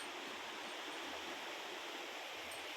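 A river near a village and its rice fields rushes steadily as a constant, even wash of flowing water, loud and unbroken throughout with no voices.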